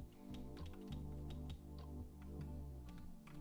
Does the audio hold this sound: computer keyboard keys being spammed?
yes